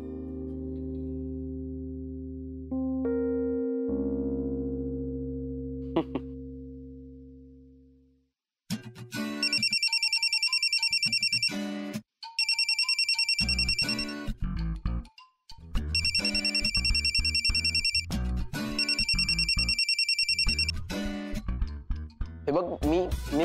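An electronic mobile phone ringtone plays in repeated bright melodic bursts with short gaps, loud and close, after a softer sustained tonal passage.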